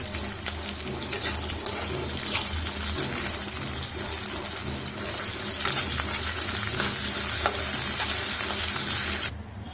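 Onions fry in hot oil for a spinach onion-chili dish, a steady close hissing sizzle with faint stirring scrapes that continues evenly until it cuts off near the end.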